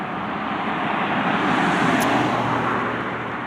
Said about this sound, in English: there's cars here, so it's going to be loud in a minute